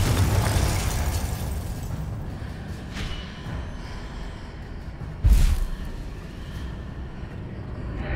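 A Confringo fire spell bursts in Hogwarts Legacy, one sharp explosive blast landing mid-clip over a steady rumble of game ambience and other spell effects.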